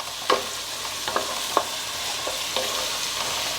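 Onions stir-frying in a pan for a chicken fry: a steady, fairly quiet sizzle with a few sharp scrapes and clicks of a spoon against the pan at irregular intervals, and no talking.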